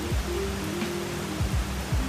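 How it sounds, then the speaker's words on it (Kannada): Heavy rain falls in a steady, dense hiss, with a few low passing vehicle swooshes underneath. "ಫುಲ್ ಹೆವಿ ಆಗಿದೆ ಮಳೆ ಅಂತೂ."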